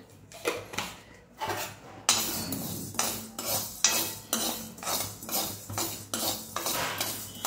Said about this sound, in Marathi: ते अगदी मंद गॅसवर छान खमंग भाजून घ्यायचेत